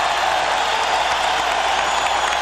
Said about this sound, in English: this Chicago crowd is now very much back into it